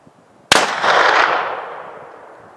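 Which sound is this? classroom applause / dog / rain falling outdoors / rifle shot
rifle shot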